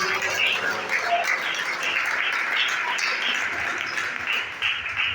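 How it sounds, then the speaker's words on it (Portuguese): A congregation at a year-end Santa Ceia worship service claps and praises, a lively mass of clapping with rising and falling swells and some voices mixed in. "o barulho de palmas nesta noite"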